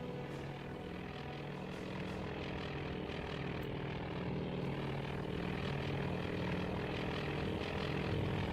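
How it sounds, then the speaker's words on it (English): Propeller aircraft engines drone in the naval strategy game Task Force Admiral, a steady, fairly loud continuous hum with no talk. "Aircraft are currently landing."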